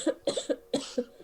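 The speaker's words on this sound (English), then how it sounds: "Clearly with the coughing." A person coughs in a quick series of about five short, dry, throaty bursts, close and fairly loud, during a tabletop role-playing game session.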